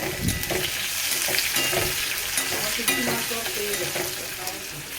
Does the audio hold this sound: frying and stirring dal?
yes